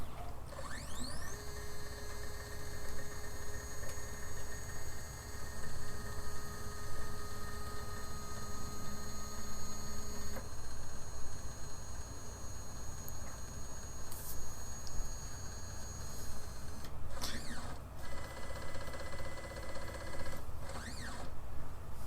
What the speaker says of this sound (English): So before you can actually use this, you need to home your machine.